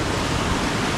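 A waterfall cascades on a northern Wisconsin river near Lake Superior, a steady, close, full-bodied rushing roar with no talking.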